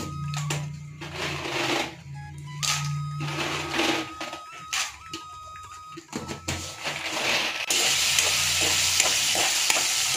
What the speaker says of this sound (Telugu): ఇందులోనే కొంచెం తాలింపు దినుసులు వేస్తున్నాను, అట్లాగే కొన్ని పచ్చి పల్లీలు